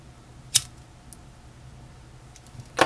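Scissors make two sharp, quiet snips, one early and one at the end, as they trim the corners of ribbon for a spider-shaped hair-clip bow, with faint ticking between them.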